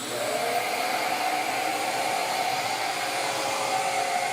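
Shaper Origin handheld CNC router cutting a mortise in wood, a steady high-pitched spindle whine with airy hiss, close and continuous, the pitch climbing slightly at the start.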